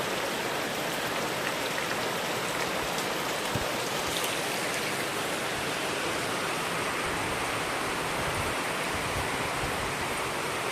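Heavy rain pours down steadily over rice paddies, a dense, even hiss of drops on surfaces with no pauses, loud and continuous throughout with no voices.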